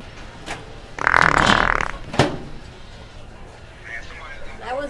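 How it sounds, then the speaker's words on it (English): A loud, drawn-out fart of about a second rips out up close, followed by a short sharp sound and quieter voices afterward. "You just farted in my face."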